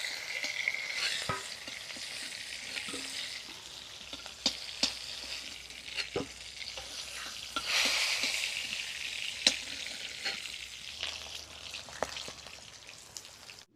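Panch phoron, dried red chillies, whole garam masala and chopped onion fry in hot oil with a steady close sizzle, broken by faint clicks and stirring scrapes, and no one talking.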